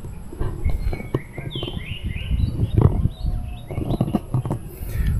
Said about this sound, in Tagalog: yung isang kabayo, ano, na sinusuga dyan